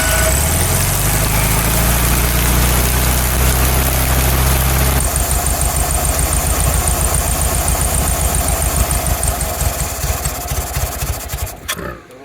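A barn-find VW Beetle engine with a flooding carburetor cranks and catches, then runs loud and rough with a rapid uneven chugging pulse, sputtering and popping before stumbling near the end.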